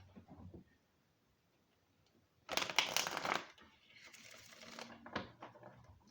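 Pocket-edition tarot cards air-shuffled in two close bursts of dense riffling clatter, a sharp crisp flurry followed by a softer, longer rustle, with a quiet room between.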